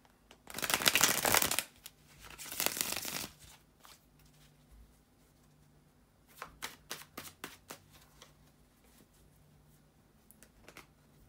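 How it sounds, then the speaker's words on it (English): Tarot cards being shuffled up close, two loud riffle bursts followed by a run of softer taps and flicks as the deck is squared, with no talking. "bear with me a second, guys, to shuffle the tarot cards"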